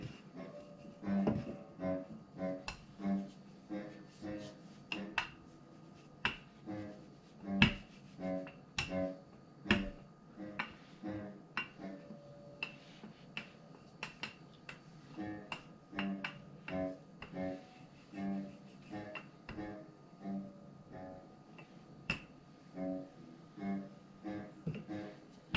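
An acoustic guitar being practiced in a home kitchen, faint plucked notes and strums ringing at an uneven pace in the background, distant and soft throughout.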